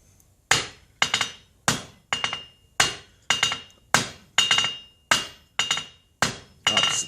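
A hammer forges a silver bar, drawing out a square taper in about a dozen sharp, ringing metallic blows at a steady, unhurried rhythm, loud and close with no talk.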